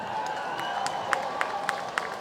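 Crowd applause and cheering at a high school football game for the Glacier Peak High School Marching Band, a continuous wash of distant clapping with a few sharper claps standing out.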